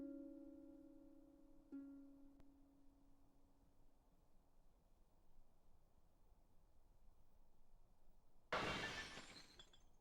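Glass shatters suddenly and loudly near the end, a sharp burst of breaking shards after a long quiet stretch with a faint steady tone fading out earlier.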